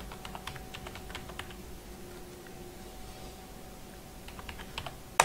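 Typing on a computer keyboard, with quick runs of crisp key clicks at the start and again near the end, a quiet gap between them and a sharper final tap, close over faint steady background noise.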